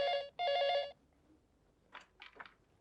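A telephone rings loudly and close in two electronic bursts. Faint, brief voice-like sounds follow in the quiet afterward.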